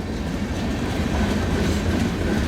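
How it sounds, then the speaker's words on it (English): A long CN freight train rolls past near Cedar Falls Junction as it slows down, with a steady rumble and rhythmic clickety-clack of wheels on rail in snowy winter conditions. "so this long train is going to be slowing down as he is right now"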